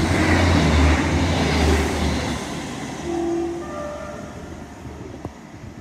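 A Great Western Railway Class 158 passenger train passes Severn Tunnel Junction station with a loud rolling rumble. Midway the driver sounds a short two-tone horn, and the noise fades as the train moves away.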